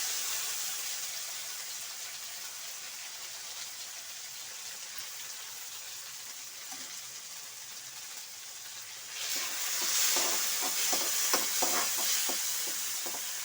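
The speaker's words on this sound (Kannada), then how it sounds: "ಟೊಮೊಟೊ ಸ್ವಲ್ಪ ಎಣ್ಣೆಯಲ್ಲಿ ಫ್ರೈ ಆಗಲಿ" Chopped tomatoes are added to oil over fried onions for a ridge gourd gravy, and a steady low sizzle swells into louder, crackling frying with quick stirring clatter near the end, with no talk.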